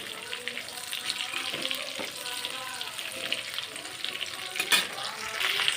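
Garlic sizzles and crackles steadily in a hot pan on a home kitchen stove, a continuous close frying hiss with a few louder pops and stirring scrapes, no talking.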